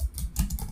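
Fast typing on a computer keyboard at a command prompt, with close, continuous key clatter forming a steady stream of small clicks and no voices.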